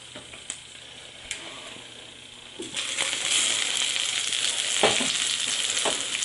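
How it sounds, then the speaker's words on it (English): Clicks and clatter, then a loud, steady sizzle rises as dandelion greens hit a hot pan and keep frying close by. "judging by the sizzling in there, it's ready"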